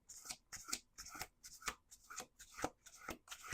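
A deck of cards being shuffled in quick repeated riffles, close up, about seven bursts in a steady rhythm.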